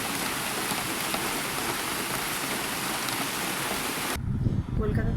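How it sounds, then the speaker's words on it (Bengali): Heavy monsoon rain pours down in Kolkata with a dense, loud, steady hiss for about four seconds. It then cuts off abruptly into quieter, closer sounds. "ঝমঝমিয়ে বৃষ্টি পড়ছে"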